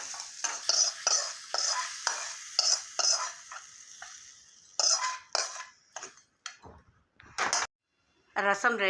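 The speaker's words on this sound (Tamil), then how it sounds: "கருவேப்பிலை, வரமிளகா, 2 இடித்த பூண்டு எல்லாம் சேர்த்து தாளித்து ரசத்தில் சேர்த்தோன்னா" Bursts of sizzling and stirring in a pan as curry leaves, dried red chillies and crushed garlic are tempered for paruppu rasam, loud crackling hiss that comes and goes, with scraping clinks toward the end.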